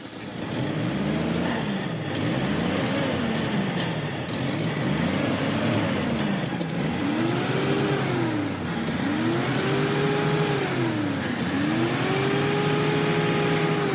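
A car engine treated with fuel injector cleaner runs loudly up close, revving repeatedly in rising and falling sweeps over a steady idle with no talk.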